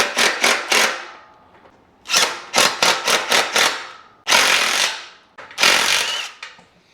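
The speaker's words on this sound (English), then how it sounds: "let's get these lag bolts in" A power tool drives lag bolts into the bunks of a boat trailer for a 14-foot jon boat: loud, close bursts, first several short rapid pulses, then two longer sustained runs, with pauses between and no talking.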